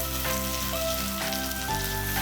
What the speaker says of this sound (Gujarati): અને હવે આને સોતે કરીશું.